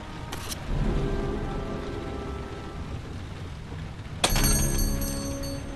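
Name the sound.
rain in the video game Heavy Rain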